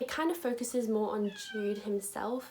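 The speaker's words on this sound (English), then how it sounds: "That's my cat meowing." A house cat meows a few times in the background while a person keeps talking over it, the calls soft and partly buried under the voice.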